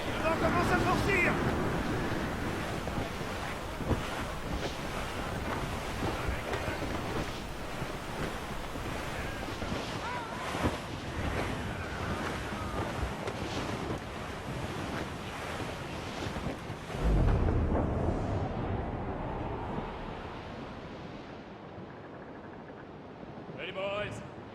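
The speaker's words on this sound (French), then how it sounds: "Le vent commence à forcir!" Strengthening wind and rolling ocean waves at sea in the video game Assassin's Creed Rogue, a steady loud broadband roar of gusts and surf that eases briefly near the end.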